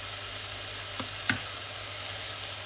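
A pan of vegetables for a meat-free dinner hisses with a soft, even sizzle as it cooks, broken by two quick scraping clicks of stirring near the middle; no one speaks.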